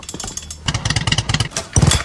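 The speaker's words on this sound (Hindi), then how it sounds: "उसकी मोटरसाइकिल का पेट्रोल खत्म होने लगता है।" A motorcycle engine sputters and misfires as it runs out of petrol, choppy uneven bursts that cut in and out over about two seconds, close and fairly loud.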